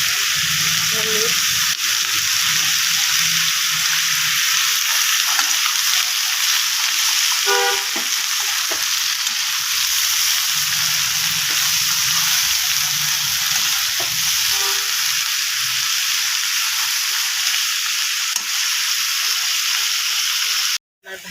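Potatoes fry in a pan with a loud, steady sizzle that fills the whole stretch, broken by occasional stirring clatter and faint voices in the background.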